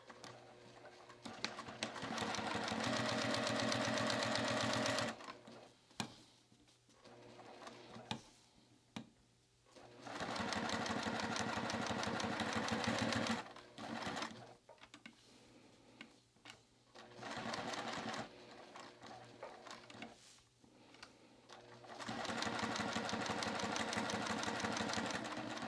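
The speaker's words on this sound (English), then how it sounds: "we're going to top stitch down each side." A sewing machine top stitching along the sides of a convertible bag, running in three long steady whirring bursts separated by short pauses with small clicks and handling sounds, close up.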